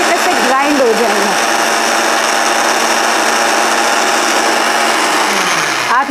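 Electric grinder whirring loudly while tilted to grind face mask ingredients, a steady high motor drone running almost the whole time, with brief pitch shifts as it starts and stops.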